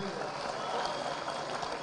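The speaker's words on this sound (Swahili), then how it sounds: "Mpigieni huyo kijana ondari makofi mengine mazuri na mengine" Crowd applause at a PNU party National Delegates Convention held at Bomas, a dense, steady clapping that fills the whole moment without a break.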